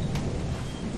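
A low, continuous thunder rumble from a lightning strike in the video game Lethal Company fills the moment, loud and close, with no voices over it.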